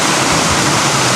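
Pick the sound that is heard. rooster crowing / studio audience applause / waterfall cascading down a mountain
waterfall cascading down a mountain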